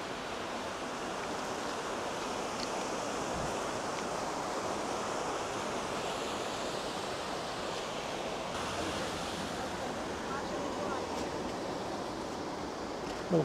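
Little River stream flowing low through the Great Smoky Mountains, a steady broadband rush of water over rocks that stays constant and fairly close throughout, with no voices.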